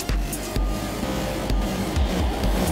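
Steady roar of traffic on a busy road heard from the footpath right beside it, with passing vehicles swelling and fading continuously and no speech.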